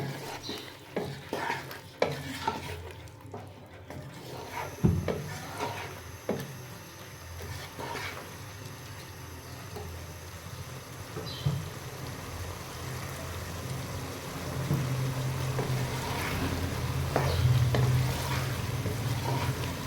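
Spices with red chili and coriander powder fry in a pot for vegetable pulao while a spoon stirs and scrapes, a soft sizzle broken by irregular metallic clinks and scraping strokes, close and without talk.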